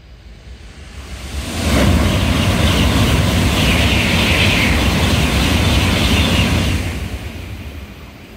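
A 16-car Shinkansen Nozomi train on the Sanyo line, heading up-line near the Muroki Tunnel, approaches and rushes past with a loud, broad roar that builds, holds for several seconds, then fades away, with no talking.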